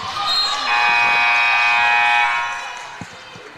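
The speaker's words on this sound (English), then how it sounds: "I have a random buzzer going off there." In a college women's basketball gym, a loud harsh buzzer blares for about two seconds and then fades, followed by a couple of dull thuds in the quieter hall.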